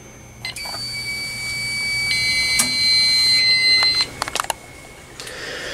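A fire alarm control panel being reset on a system with a two-wire smoke detector gives off high electronic beeps and tones. A sustained tone is followed by a cluster of short chirps near the end, fairly loud, with no voices.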